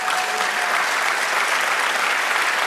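A church congregation claps steadily and loudly in dense, sustained applause, a continuous wash of hand claps with no break.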